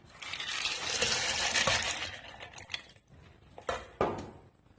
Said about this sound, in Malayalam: ചെറുപയർ ഇട്ട് കൊടുക്കാം